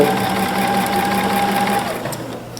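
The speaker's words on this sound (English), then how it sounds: "So we're going to sew it again." Sewing machine running steadily while stitching blouse fabric, a close, continuous whirring drone that slows and fades near the end.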